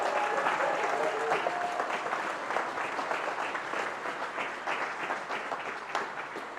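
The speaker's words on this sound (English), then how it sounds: "So please give them all a round of applause for us." Audience applause fills a keynote hall as a live crowd claps for the artists in the room: dense, steady clapping that holds throughout without a break.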